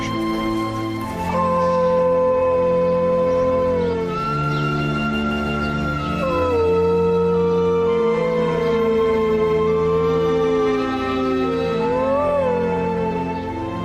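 A lone wolf howls in the mountains, loud and close, with long wavering howls sliding up and down in pitch and rising again over about fourteen seconds.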